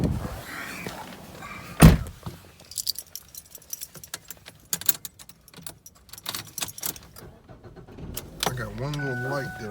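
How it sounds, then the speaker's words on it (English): A 2007 Ford Fusion SE: keys jangle, a car door shuts with a solid thud, then rustling and clicks before the engine cranks and starts; someone talks briefly over the start. "she starts up, cranks up good"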